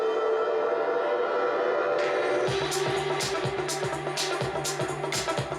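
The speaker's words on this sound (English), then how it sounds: "we're gonna go with our second song here on the CL5. We're gonna try a little techno." Techno track played through KRK Classic 5 studio monitors: a sustained synth drone gives way to a steady pulsing kick beat with sharp repeated hi-hat hits, loud and continuous with no talk.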